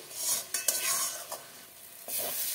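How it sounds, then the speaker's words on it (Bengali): A spice paste of ground coriander, cumin and turmeric with a little water sautés in a pan for a bata fish curry, with a loud hissing sizzle and quick stirring scrapes over about two seconds. "মশলাটাকে ভালো করে কষাতে হবে যেন কাঁচা গন্ধটা না থাকে।"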